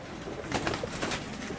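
A racing pigeon, bird number 72 in a breeder's loft, gives soft low cooing, close and faint against a steady background hiss, with no talk over it.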